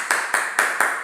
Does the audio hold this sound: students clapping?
yes